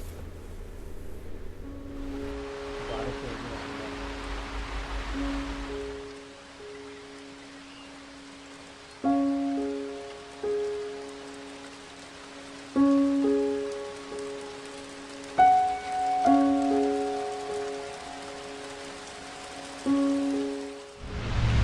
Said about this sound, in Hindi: बारिश हो रही है और मौसम बहुत ही प्यारा है।